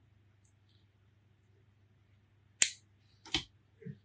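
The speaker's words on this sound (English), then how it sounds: "cut tag, cut the other tag right here" Scissors cut the tag ends off a Deepliner VB fishing rig, giving a few sharp, close snips spaced apart in an otherwise quiet moment, with no voices.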